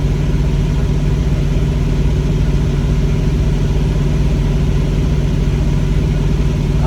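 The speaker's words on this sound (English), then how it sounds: "I'm going to periodically just run this truck, let it air up" A truck engine idles steadily and loudly, running so the tires can air up, with a constant low rumble and no voices.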